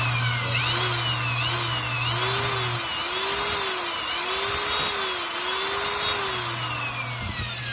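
A plugged-in, locally made power tool runs steadily after being switched on, its motor whine holding a level pitch with a slight cyclic wobble, with a low hum underneath that comes and goes.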